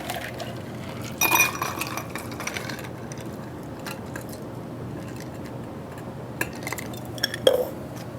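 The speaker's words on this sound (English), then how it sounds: "roll it into the glass so that you get the citrus garnish into play" Ice and liquid slide from a cocktail shaker into a glass in a quiet, close pour, with small clinks of ice against glass and a few sharper taps scattered through it.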